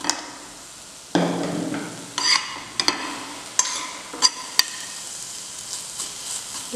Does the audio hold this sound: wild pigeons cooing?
no